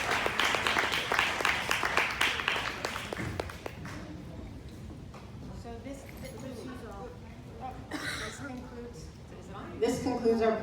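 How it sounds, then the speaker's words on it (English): Audience at a community program gives panelists a loud round of applause, a dense burst of clapping for a few seconds that dies away into quieter room noise and talk. "Give a round of applause for all of our panelists today."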